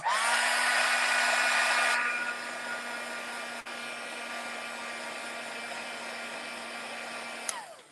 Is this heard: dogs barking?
no